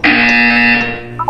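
A loud, steady electronic buzzer tone from the video game Portal 2, a single sustained blast of about a second that cuts off sharply, with a brief faint tonal blip after.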